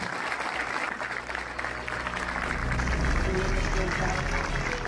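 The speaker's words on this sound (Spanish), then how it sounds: "tiene un fuerte aplauso para ella." Applause for an 82-year-old woman graduating from secondary school, a continuous moderate wash of clapping with low rumble underneath and some speech mixed in.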